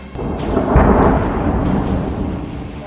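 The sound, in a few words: drone striking a building, loud explosion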